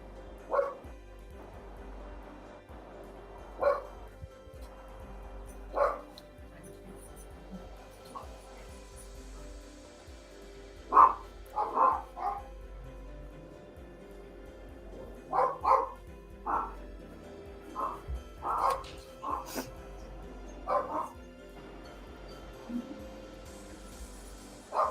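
Two dogs barking back and forth in a room, a series of short, sharp barks scattered irregularly over low background noise, moderately near with some quick double barks.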